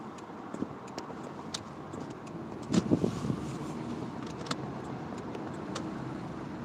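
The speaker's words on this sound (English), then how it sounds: "Oh, the traffic here is goddamn terrible." Road traffic near a busy street: a low, steady wash of passing cars with scattered small clicks and ticks, and a brief louder rumble partway through, fairly distant and quiet.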